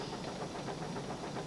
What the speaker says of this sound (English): he's going so fast, he's blown steam in Emily's face